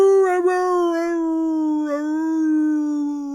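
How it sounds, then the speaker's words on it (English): A dog in a film lets out one long, loud, sustained howl, wavering slightly in pitch with a couple of brief breaks, close and alone without speech. "we just hear an epic sexual howl"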